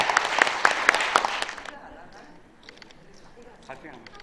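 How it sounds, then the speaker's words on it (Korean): An audience claps in celebration at a women's association president's inauguration, a loud burst of applause that fades quickly after about a second and a half, leaving scattered faint claps and murmuring. "축하의 큰 박수를 부탁드립니다."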